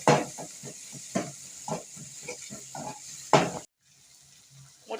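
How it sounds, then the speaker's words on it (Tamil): A spoon stirs beaten egg into softened tomato and turmeric in a pan for idli upma, about a dozen rhythmic scraping strokes over a low sizzle, then stirring stops and only faint frying remains. "ஒரு முட்டை உடச்சி ஊற்றி நல்லா கிண்டி விடணும்"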